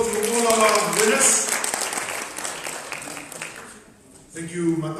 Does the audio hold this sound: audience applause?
yes